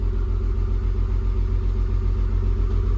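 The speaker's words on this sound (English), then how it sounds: "he's now on all cylinders, ticking over quite nicely" A Toyota Supra Turbo with a 7M-GTE engine, suspected of a head gasket problem, idles on all cylinders in a smooth, steady low rumble, close and constant with no talking.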